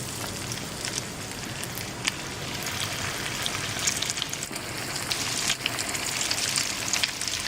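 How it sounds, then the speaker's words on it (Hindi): Raw fish nuggets sizzle in hot oil in a pan over a low flame, a dense, close crackle and spatter that holds steady and grows slightly busier toward the end, with no talking. "ये चूँकि कच्ची फ़िश है इसलिए हमें इसको बहुत हल्की आंच पे फ्राई करना है"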